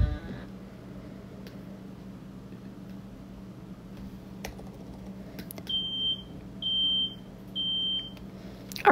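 A smoke alarm gives three shrill, evenly spaced electronic beeps after a stretch of quiet room hum, with a few faint clicks scattered around them.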